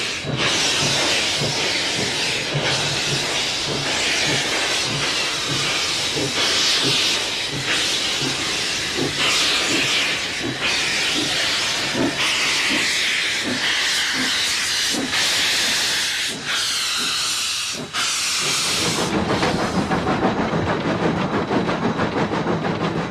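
A steam locomotive on the Zig Zag Railway in the Blue Mountains hisses loudly and steadily for a long stretch, with a rhythmic chuffing pulse under it that cuts off near the end into a lower rumble.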